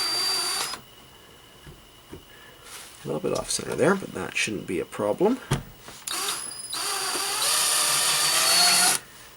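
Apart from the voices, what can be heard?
drill boring slowly through soft plastic GoPro mount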